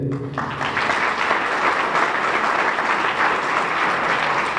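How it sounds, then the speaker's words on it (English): A graduation ceremony audience gives a sustained round of applause for graduates, dense even clapping from a large crowd, steady and fairly loud throughout. "can I just ask that we give a round of applause to the 89 graduates today"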